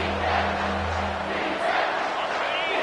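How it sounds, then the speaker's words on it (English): A college football stadium crowd roars steadily on third down, a dense continuous wall of cheering and yelling with no break, heard at a distance without any talk over it. "3rd down, and this crowd will blow out a vocal cord to help this defense."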